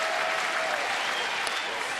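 A loud crowd of about 17,000 at a Mariners at Orioles baseball game keeps up continuous, dense cheering and clapping that fills the stadium, with a brief whistle rising out of it.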